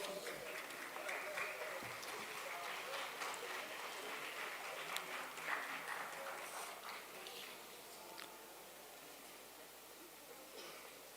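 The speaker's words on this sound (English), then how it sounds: "Round of applause." Crowd applause at an outdoor event where South African President Cyril Ramaphosa officiates the Milestones of Freedom campaign, a steady wash of many hands clapping that fades somewhat toward the end, with a faint voice mixed in.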